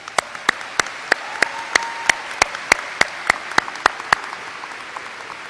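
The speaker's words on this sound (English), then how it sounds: "Please give them a round of applause again." Applause from a commencement audience at Embry-Riddle Aeronautical University's Spring 2018 ceremony: a steady, even run of sharp claps sustained throughout, moderately loud, with no voices over it.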